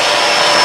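A Kenmore Crossover Ultra vacuum cleaner runs with a loud, steady, airy whir that stays unbroken from start to finish, close up and with no voices.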